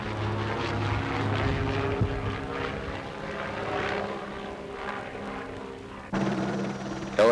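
Helicopter rotor and engine drone from a firefighting aircraft used to carry crews and gear to forest fires, a steady loud throb throughout with a sharper shift near the end.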